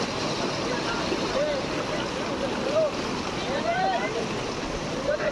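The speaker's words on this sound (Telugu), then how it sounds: "వాటర్ ఫోర్స్ ఎంత ఉంది." The Alaknanda river rushes forcefully at Devprayag in Uttarakhand, a dense, continuous roar of fast water heard close by, with a person talking over it.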